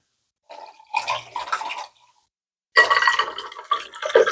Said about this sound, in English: For the sake of the video, we're just going to pour some in here.